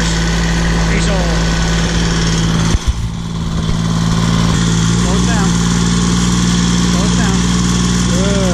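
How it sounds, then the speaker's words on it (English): A diesel pulling tractor idles steadily and close, its low even rumble running throughout with a brief dip midway, while children and an adult talk over it. "Gotta love diesel tractors, right?"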